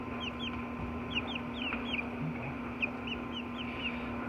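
Buckeye-mix layer chicks in a brooder peeping steadily, many high, short chirps overlapping in irregular bursts, fairly faint and close, over a constant low electrical hum.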